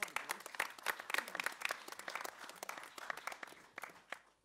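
Applause from a boxing event crowd greets a fighter turning professional, a faint, steady patter of many hands clapping with no voices over it.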